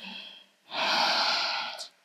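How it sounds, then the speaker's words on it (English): One long audible inhale through the nose during a flowing yoga sequence, close and steady for about a second before fading, following a softer breath. "Breathing in."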